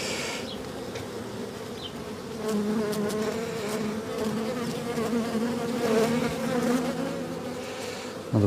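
Honeybees buzz loudly and continuously around an open beehive outdoors, a dense close-up drone that swells as insects pass near.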